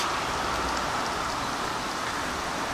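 Rain falls steadily on a waterlogged broccoli field, a dense, even hiss of drops that continues unbroken at moderate loudness with no voices.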